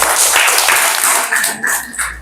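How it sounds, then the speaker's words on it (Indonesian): Classroom students clapping for a classmate, a short loud burst of dense close-up applause with no speech over it. "tepuk tangan untuk teman kita"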